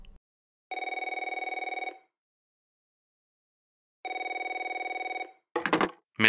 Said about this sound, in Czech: zazvonil na operačním středisku kyjevské policie telefon